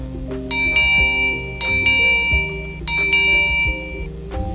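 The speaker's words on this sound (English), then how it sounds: "While the smaller one creates higher energy waves." A small bell struck repeatedly, giving a bright, high, sustained ringing tone; three loud strikes ring out in a clear sequence, each decaying slowly over a low background hum with no talk.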